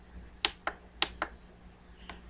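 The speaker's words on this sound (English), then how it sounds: "So if I just keep on clicking around." Crisp computer mouse clicks while working in Studio Designer Edition software: five sharp, close taps, mostly falling in quick pairs with short pauses between.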